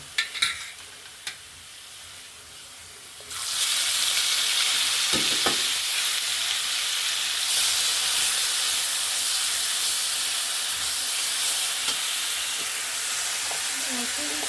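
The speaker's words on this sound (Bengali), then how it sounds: "পেঁয়াজটা এই যে লাল লাল করে প্রায় ভাজা হয়ে আসছে" Onions and spices frying in a hot pan for a hilsa fish curry: a loud, steady sizzle starts suddenly after a few quiet seconds of faint clinks, then continues close and constant.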